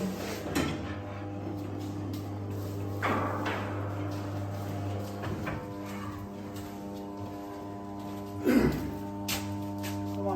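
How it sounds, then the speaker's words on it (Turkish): A motorized electric attic ladder unfolds by remote control indoors, giving a low steady motor hum with scattered clunks and knocks as the sections move and lock into place, the loudest near the end. "Şu gördüğünüz kumandayla merdivenimiz açılıyor."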